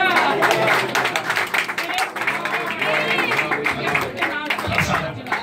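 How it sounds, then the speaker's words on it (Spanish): A church congregation claps during a sermon in Panama, a dense, continuous patter of hands that fills the clip, mixed with voices and shouting over it. "Fuerte el aplauso, dile."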